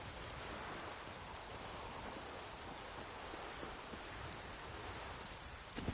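Steady, dense rain in the video game The Witcher 3: Wild Hunt hisses continuously throughout, an even wash of falling water with no voices.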